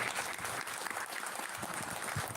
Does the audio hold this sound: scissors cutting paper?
no